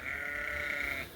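A single sustained sheep bleat rings out close and loud for about a second at hay feeding time on a farm, with faint barn noise underneath.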